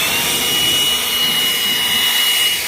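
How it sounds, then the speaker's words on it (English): A new leaf blower, tried out on a combine head, roars in a loud continuous high-pitched rush that holds steady throughout without a break. "Should we take our fancy new leaf blower out here and blow off the head, see how well it works in combine?"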